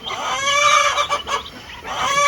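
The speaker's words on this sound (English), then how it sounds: "So these are some of the turkeys we hatched earlier this year." Young turkeys hatched on a ranch gobble and call loudly and close by, a few overlapping bursts of warbling cries alone without talk.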